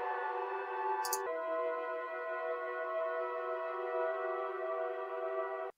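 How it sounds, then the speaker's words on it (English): A sustained, bright synth pad chord holds steady with a reverberant wash, one short high glint near the start, then cuts off abruptly. "just add some reverb on top of it"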